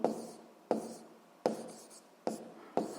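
A pen scratches on paper while physics problem values are jotted down, a series of close, soft scratchy strokes recurring roughly every second.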